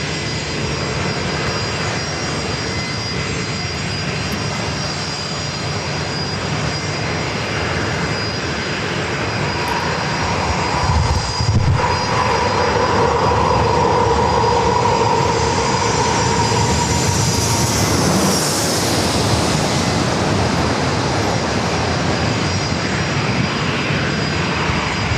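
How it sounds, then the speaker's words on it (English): A British Airways Boeing 777-300ER airliner, four years old, arrives at San Diego airport with a loud, steady jet roar that builds toward the middle and peaks with a rising whine before easing, no voices. "British Airways Flight 265, coming from London Heathrow, the 4-year-old 777 at 300 ER"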